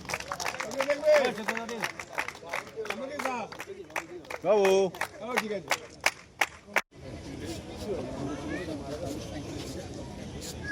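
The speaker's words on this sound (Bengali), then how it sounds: "তার জন্য তার হয়ে একটা হাততালি চাইছে" Applause breaks out for a player at a ceremonial event, a stretch of clapping from a gathered audience following someone speaking over a microphone.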